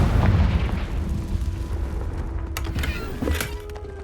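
A Confringo blast spell in Hogwarts Legacy, a heavy rumbling explosive boom that fills the opening and decays into a low tail, with sharper crackling bursts later on.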